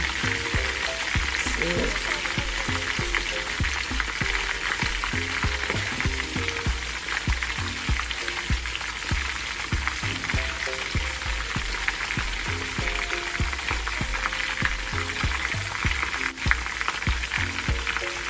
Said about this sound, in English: You just fry it until you turn brown, then you take them out.